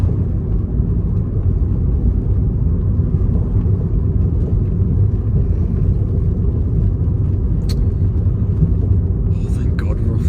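An Alfa Romeo GTV drives over a rough road surface, giving a steady, loud low rumble of engine and tyre noise that runs throughout, with a few faint rattles near the end.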